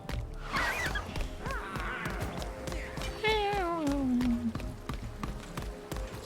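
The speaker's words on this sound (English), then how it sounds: "Sounds like a mad cat." An angry cat in the video game Lost Ark lets out a harsh, drawn-out meow that slides downward over about a second, preceded by shorter cat cries, all set against steady game background sounds and faint clicks.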